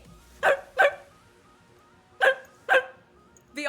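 A pet dog barks in four sharp, close, fairly loud single barks in two pairs, with a fifth bark starting at the end and quiet room noise between.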